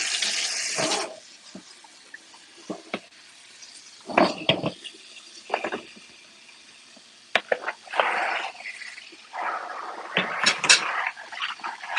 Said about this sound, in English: Wash my hands.